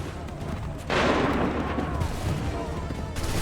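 A volley of gunfire on command, a sudden loud burst of overlapping shots that sets off a sustained crackling roar, close and dense for several seconds.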